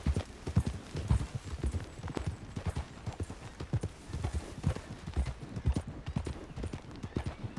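Steady clip-clop of horse hooves trotting at an even rhythm in Red Dead Redemption 2, close and fairly loud, with no voices over it.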